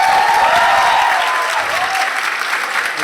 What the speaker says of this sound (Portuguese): Uma salva de palmas para Diego Ribas.